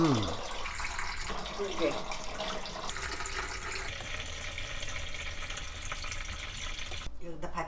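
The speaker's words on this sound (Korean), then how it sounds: "물을 부어." Water poured onto cooked red beans in a kitchen bowl, a steady running splash under close conversation, ending abruptly near the close.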